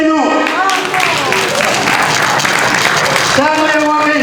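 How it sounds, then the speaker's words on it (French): Guests clap and cheer together at a 50th birthday party, a dense burst of applause lasting about three seconds. A loud voice speaks just before and again just after it. "Acclamons pour Charles Wabeno."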